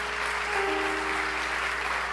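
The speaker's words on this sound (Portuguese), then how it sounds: "Aplauda o nome de Jesus" Church congregation claps together in a steady, continuous wash of applause, even in loudness throughout, with no distinct voices rising above it.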